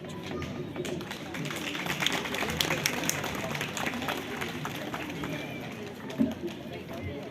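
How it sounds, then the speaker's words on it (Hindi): Steady applause from a crowd at a Hindu community gathering fills the whole stretch, dense clapping at a fairly even level with a brief louder knock near the end. "जोरदार तालियों के साथ स्वागत एवं अभिनंदन।"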